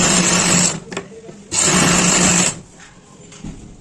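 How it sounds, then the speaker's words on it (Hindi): A sewing machine stitches pant pieces along marked lines, two loud steady whirring bursts of about a second each, close up, with quiet handling between runs. "आपने जो निशान लगे हुए हैं सब उन्हीं निशानों पर आपको सिलाई चलानी है"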